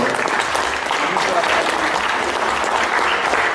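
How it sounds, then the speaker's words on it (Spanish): A crowd applauds continuously, a dense, steady clatter of many hands clapping at even loudness throughout. "Aplausos, por favor."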